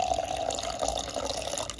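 A short stream of water pouring into a mug while making grits cookies, a steady splashing trickle that is fairly faint and heard alone.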